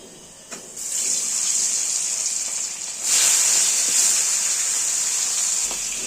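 Eel fish dropped into smoking hot oil, giving a steady loud sizzle that swells sharply as more pieces go in, continuous and close.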